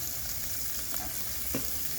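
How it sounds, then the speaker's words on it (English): Food sizzling in a frying pan in a backyard in Sydney, a steady hiss with a couple of brief stirring scrapes, close and without talk. "Oh, let's get that sizzling."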